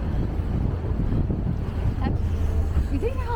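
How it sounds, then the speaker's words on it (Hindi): A strong cold wind buffets the microphone aboard a canal tour boat in Copenhagen, a constant low roaring rumble with a brief voice sounding near the end. "हवा इतनी तेज चल रही है।"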